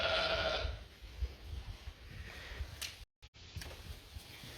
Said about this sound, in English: these sheep were obviously all outside at that point, and they've just come in to lamb